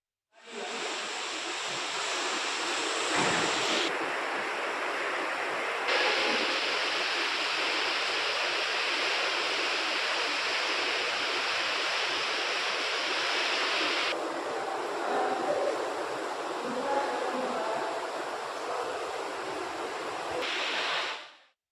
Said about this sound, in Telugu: కుండపోత వర్షంతో రామాలయం చుట్టూ నీరు చేరింది